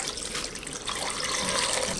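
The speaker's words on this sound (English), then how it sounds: "And we're going to top this off with water." Water poured steadily into a pot over pork bones and pork foot for tonkotsu ramen broth, a close, continuous gushing splash that fills the two seconds without talk.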